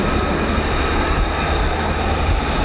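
A Lockheed F-35B stealth jet makes a short takeoff at an air base, a loud, continuous, broadband engine roar that fills the whole moment without letup.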